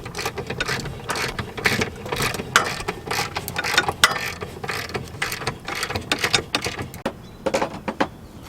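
A hand ratchet clicks in quick, irregular bursts, close up, while tightening the differential bolts on a BMW E36.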